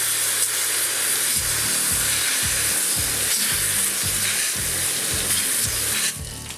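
Water sprays steadily over a soapy bicycle being rinsed, a continuous close hiss with rhythmic pulses underneath and no talking.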